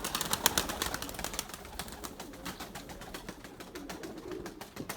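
Pigeons and their young coo softly and low amid a busy flutter of wings and rustling, close by and continuous, with no voices.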